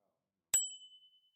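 A single bright quiz buzzer bell is struck once, a sharp ding that rings out and decays over about a second, faint and alone.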